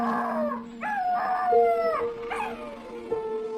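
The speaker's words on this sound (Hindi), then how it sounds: "बच्ची के मुंह से कपड़ा हटाते ही कुत्तों ने रोना शुरू कर दिया और वहां से भाग गए।" Several dogs howl in a drawn-out, wavering chorus, close and fairly loud, their overlapping cries rising and falling without any talk, as a sound effect in a spoken horror story.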